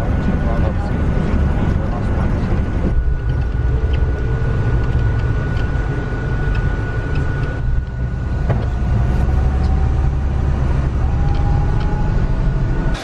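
Bus driving along with passengers aboard on the way to Port Miami, a steady low engine and road rumble throughout, with a shift partway through and voices talking over it.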